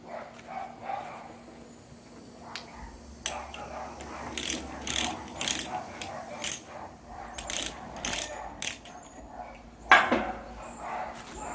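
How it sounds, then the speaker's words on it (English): A ratcheting pipe threader cutting threads on a two-inch pipe gives repeated sharp metallic clicks in irregular bursts over a low background hum, close and fairly loud, with no talk. "it just works off a ratcheting mechanism. And you just ratchet it on the pipe, and it makes threads"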